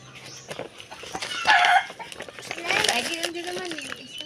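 Chickens at a farm with piglets, clucking and squawking loudly up close in a few drawn-out calls, with people talking over and around them.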